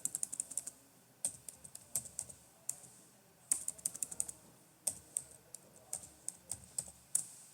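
Keys clatter on a computer keyboard as a Terraform destroy command is typed, sharp close clicks in quick bursts with short gaps between them, quiet and unaccompanied by talk.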